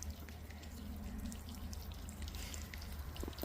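Water runs steadily from a garden irrigation line, a continuous close hiss and splash with a faint low hum beneath, no talking.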